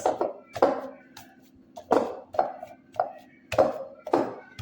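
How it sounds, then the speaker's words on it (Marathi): Risen homemade pizza dough is punched down by hand, giving a series of soft, dull thumps and slaps in an irregular rhythm, close and fairly clear. "आता थोडं याचं पंचिंग करून घ्यायचं."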